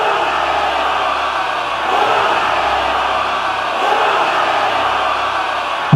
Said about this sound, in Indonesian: Arena pecah dengan sorakan